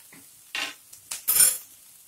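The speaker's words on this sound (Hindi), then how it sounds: "हींग और सबको तड़कने देंगे।" A tempering of asafoetida being fried and stirred in a pan, heard as three or four short bursts of sizzle and utensil scraping separated by near silence.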